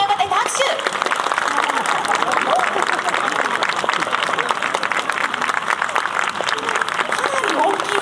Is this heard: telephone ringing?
no